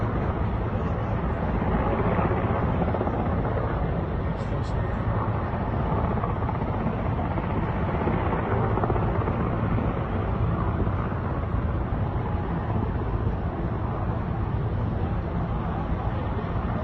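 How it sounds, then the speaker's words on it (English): Helicopters evacuate people from the US embassy in Baghdad, Iraq. Their dense rotor and engine noise forms a constant, loud throbbing roar for the whole stretch, with no voices over it. "Helicopters evacuating Americans from the embassy in Iraq,"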